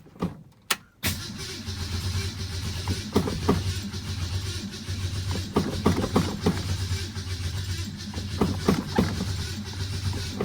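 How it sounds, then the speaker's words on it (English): A 1966 Ford Mustang with a carburetor turns over on a cold start after months of sitting. A few sharp cranking bursts lead into a steady, rumbling idle close by, and there is no talk. "Had to get gas to the carburetor, but once I was there, she started right up."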